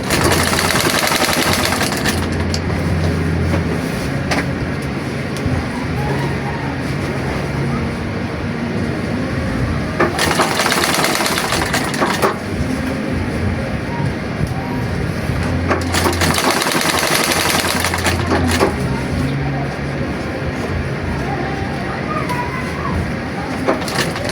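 A foot-powered treadle sewing machine stitches through thick material, even plywood, running in a steady loud mechanical whir with repeated rattling bursts across the whole stretch, without pauses.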